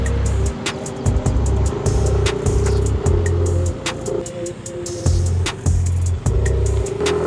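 A motorcycle engine drones loud and close throughout as it climbs uphill toward a turbine area, its low throttle note pulsing in repeated surges with a steady hum above.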